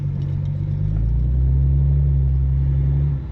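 A BMW E92 with a T51 Armada turbo, its engine a loud, steady low rumble that swells slightly as it holds revs, close by with no speech.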